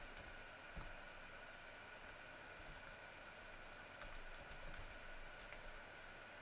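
Typing on a computer keyboard, a run of quick, light key clicks with a few louder taps, close by over a steady background hiss with no talking.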